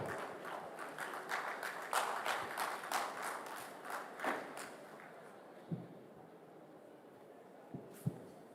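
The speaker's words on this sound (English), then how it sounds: "may I ask that you give her a round of applause as she steps onto the microphone" Audience at a state ceremony giving a round of applause, a soft, fairly distant patter of clapping that swells and then thins out into a few scattered claps before dying away.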